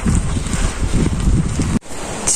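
Strong wind buffets the microphone and roars around an abandoned house, loud and continuous with low rumbling gusts, cutting out briefly near the end before resuming.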